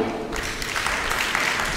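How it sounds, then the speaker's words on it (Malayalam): Audience applause at a religious retreat for Mount Carmel sisters in Changanassery, a dense, steady patter of many hands filling the hall at moderate loudness without a break. "ഒരിക്കൽ കൂടി നന്ദി പറയുന്ന ക്ലാപ്പ് ചെയ്യാം"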